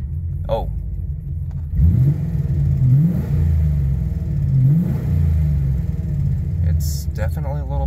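A V8 Ford Ranger engine, freshly fuel-tuned, idles with a deep rumble, then revs up twice in short, rising bursts before settling back to idle, close and loud.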